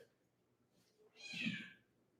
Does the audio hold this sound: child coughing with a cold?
no